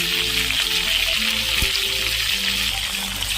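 Mustard oil hisses in a hot pan alongside fried fish heads for a cabbage ghonto, a steady, even sizzle with faint tonal hum underneath and no pauses.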